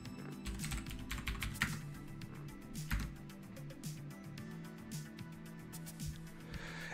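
Keys clatter steadily on a Sharp X68000 computer keyboard as a username and password are typed, a quick irregular run of close, fairly quiet keystrokes with no voices.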